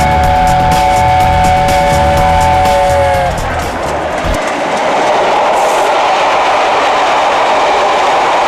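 A train at Didcot runs along the rails, a loud, close, continuous rumble with a sustained whistle-like tone in the first few seconds before it settles into steady running noise.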